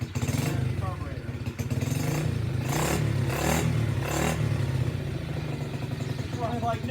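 SSR pit bike with a poor air filter and carburetor, its small single-cylinder engine running close by in a steady, loud putter with rattling mechanical clatter and slight surges throughout.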